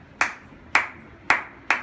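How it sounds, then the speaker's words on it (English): Four sharp, bright hand claps of the high clap in a Latin hand-clapping rhythm, close and fairly loud with a ringing snap, spaced about half a second apart over a quiet background. "That's the high clap."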